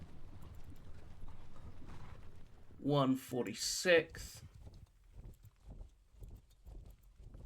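Horse artillery moves across the field in a Napoleonic war game set at the Katzbach, with hooves clopping and gun carriages rattling and creaking, while a voice briefly speaks midway.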